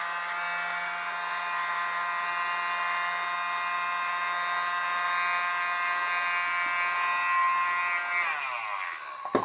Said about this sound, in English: This little blower's neat